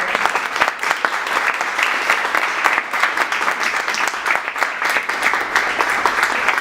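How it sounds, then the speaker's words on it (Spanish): Close, lively clapping from an audience sending off a guest speaker, dense and continuous with slightly uneven bursts throughout. "La despedimos con un aplauso"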